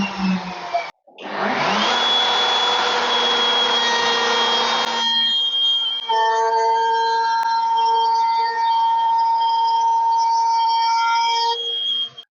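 A router with a larger finger pull cutter cutting into an 18mm board, loud high whine spinning up, then a harsh cutting roar that eases into a steady tonal whine before stopping.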